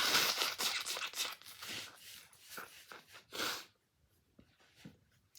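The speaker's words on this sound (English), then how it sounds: "And I have to blow my nose again." A person blows their nose in a series of harsh, breathy blasts close to the microphone for about three and a half seconds, followed by a quieter lull with a few faint rustles.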